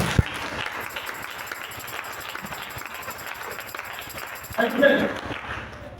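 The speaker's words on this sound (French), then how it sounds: "acclame très fort au Seigneur" A church congregation bursts into clapping and cheering, a dense wash of applause with shouting voices mixed in, swelling louder near the end.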